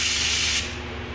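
Spray gun laying clear coat on a panel of a 2003 Suburban rear gate at low pressure with a 2-inch pattern, a steady close hiss that cuts off partway, leaving quieter background.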